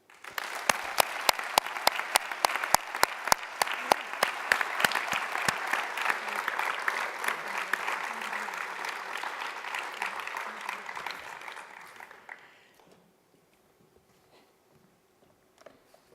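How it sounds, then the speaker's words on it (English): Applause at the Hospice UK Awards 2016 ceremony for Jamie Ward: a full audience claps steadily for about twelve seconds, then fades out to near silence with a stray clap near the end. "So I'd like to ask you all to give a round of applause,"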